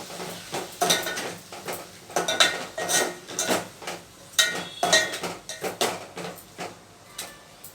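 A spoon scrapes and knocks against a pot while fried dal is stirred, a series of close, sharp metallic clinks and scrapes in an uneven rhythm.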